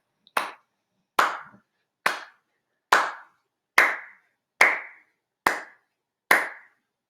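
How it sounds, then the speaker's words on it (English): Eight sharp, evenly spaced hand claps ring out alone and close, each crisp and separated by brief silence, keeping a steady counting beat. "I'm going to clap and give you your 8 beats"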